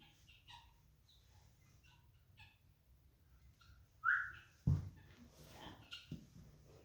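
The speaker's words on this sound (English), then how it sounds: "I marked him with that whistle at the right time" A trainer's short, sharp marker whistle rings out once, close and loud, during foundation training of a horse being led by the foot, followed by a thump and soft movement noises in an otherwise quiet setting.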